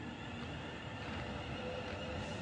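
A British Rail Class 350 electric multiple unit pulls into Birmingham International station, a steady, broadband rumble and rolling hiss that stays level and close throughout, with no voices.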